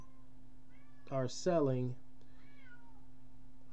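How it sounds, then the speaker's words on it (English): A cat meows twice in quick succession, fairly close and clear against a quiet room with a steady low hum, followed by brief faint voice. "And there goes my cat."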